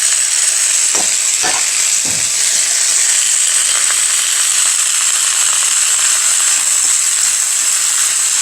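Garlic fries in oil in a pan for a sweet potato stem stir-fry, giving a loud, continuous hissing sizzle. A few brief utensil scrapes come early, with no talking.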